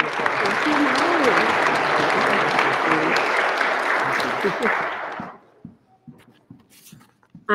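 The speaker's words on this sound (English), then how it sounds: "let's give Molly another round of applause" Audience applause at a Red Glasses Award ceremony in a church hall in Grand Rapids, a dense sustained round of clapping that fades out after about five seconds into scattered claps and quiet.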